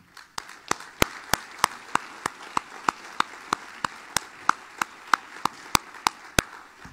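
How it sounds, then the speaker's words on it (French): A few people clap at a municipal council meeting in a hall, with sharp, evenly spaced single claps in a steady rhythm rather than a full crowd's roar. "Merci, on peut l'applaudir."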